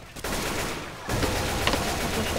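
Gunfire bursts in the zombie shooter game Left 4 Dead, dense overlapping shots and rattling volleys filling the whole short stretch, loud and busy.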